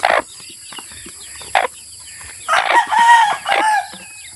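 Chickens cluck and squawk on a farm as chicks are moved to their coop, several short loud calls spaced irregularly with quiet gaps between them, close by.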